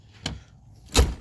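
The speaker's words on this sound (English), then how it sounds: "door shut really good." A 1993 Ford Mustang LX coupe door with brand-new seals: a light latch click, then a solid, close thud as the door shuts firmly.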